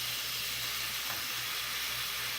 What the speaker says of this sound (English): The green onions and the cilantro, and I'll let that saute for a while.